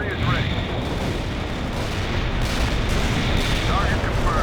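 Artillery fire in World in Conflict rumbles as a continuous, loud barrage of booms and blasts that build slightly toward the end, with a few sharper bursts standing out over a heavy low roar.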